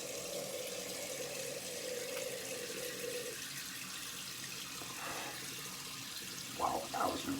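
Cold tap water runs steadily into a sink for rinsing after a straight-razor shave, a continuous faint hiss that shifts in tone midway, ending with a couple of brief splashes.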